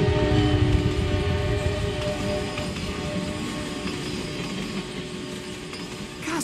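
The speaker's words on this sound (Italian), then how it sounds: "questo sì che è un treno, altro che il nostro" A train rumbles past in a steady, loud roar of wheels and carriages that slowly eases off, with faint metallic clinks and no talking.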